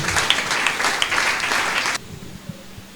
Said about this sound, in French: Acclamons très très fort le Tout-Puissant.